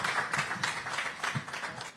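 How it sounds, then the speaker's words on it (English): Applause from a press conference audience after a SuperMotocross race in Concord, NC, a brief, fairly faint patter of clapping with no voices. "let's give a round of applause to Deegan, Liao, and Shimoda"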